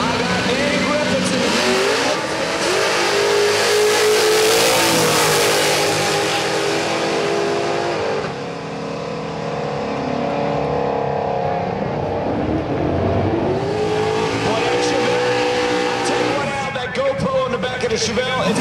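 A 1986 Ford Mustang with a 347 engine races another Mustang at a drag radial event, loud roaring engines revving and rising in pitch as they launch and run, with an announcer talking over them.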